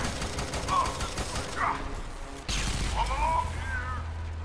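Gunfire in the video game F.E.A.R. 3 during co-op play, a busy mix of rapid shots and bursts with clanks, continuous throughout, with players talking over it.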